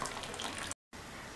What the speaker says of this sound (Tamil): இந்த ஸ்டேஜில் புளிக்கரைசல் சேர்த்துக்கலாம்